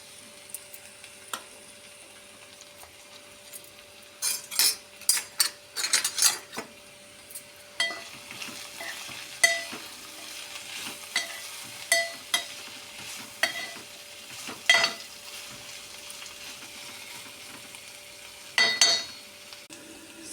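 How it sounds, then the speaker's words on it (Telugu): Potato, onion and green chili fry in a pan under a faint continuous sizzle, broken by repeated sharp clinks and scrapes of a spoon stirring against the metal, some in quick bursts. "పచ్చిమిరపకాయ ముక్కలు, ఉల్లిపాయ ముక్కలు కూడా కలిపేసి పొటాటో కూడా వేసేస్తానండి."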